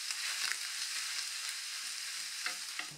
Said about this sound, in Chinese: 把蒜蓉和姜泥倒下去